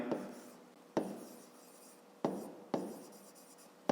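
Pen strokes scratching across paper while working a fifth-grade maths exercise, four distinct bursts of writing each fading out, close and clear with no talking.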